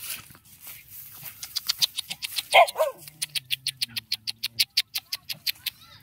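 A dog barks in a quick, rhythmic series of sharp yaps, with one louder bark partway through, fairly close and with no talking.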